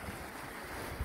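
Waves washing onto a Lake Michigan beach at Covert Beach and Campground, heard as a steady, moderately faint surf wash mixed with wind noise on the microphone and a brief low thump near the end.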